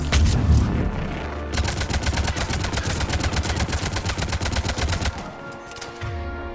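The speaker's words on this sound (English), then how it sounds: "I need to fire bullets." Rapid automatic gunfire in Mass Effect 3 Legendary Edition: a sustained burst of evenly spaced shots lasting several seconds, loud and close, then cutting off into quieter game ambience.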